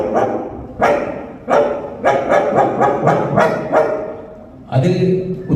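A man at a state conference imitates a dog with a string of loud, close barking sounds, several short woofs in quick succession after a single opening bark.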